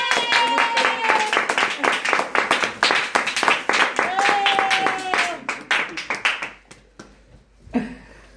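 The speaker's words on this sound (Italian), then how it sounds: "Un applauso!" Family members clap in quick, uneven bursts at a Father's Day gathering at home, with lively voices over the claps before they thin out and stop near the end.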